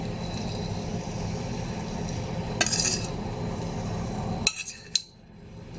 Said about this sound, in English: I need some tongs.